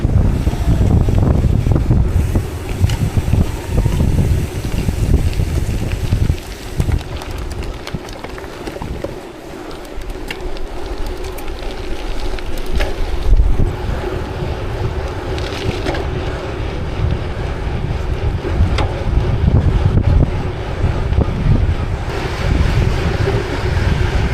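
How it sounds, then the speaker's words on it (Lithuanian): Strong wind roars continuously across the microphone of a rider in the Rėkyva Gravel race in Lithuania, a loud, rough, unbroken rush with gusting swells throughout and no talking. "bet aišku turime gan stiprų vėją"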